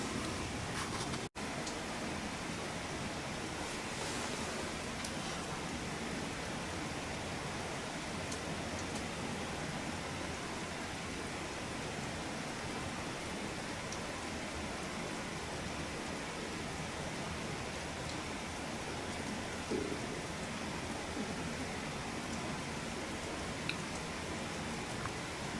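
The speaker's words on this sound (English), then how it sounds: "It's raining right keen." Steady rain falls through the woods during early deer season, an even wash of hiss that holds for the whole stretch, with no talk.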